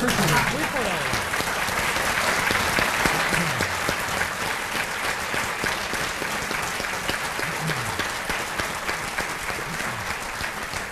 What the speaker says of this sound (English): we also are applauding Jim Getty of Gettysburg, Pennsylvania, and Tim Connors of Springfield, Illinois